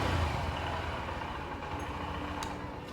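A 2025 Honda Livo 110cc motorcycle runs with a steady, low exhaust note that starts slightly stronger and settles into an even hum, with no clear throttle rise.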